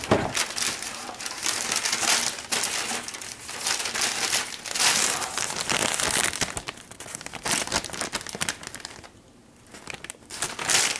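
White tissue paper crinkles and tears inside a Nike Air Force 1 sneaker box, with repeated close, loud rustling bursts over about eleven seconds.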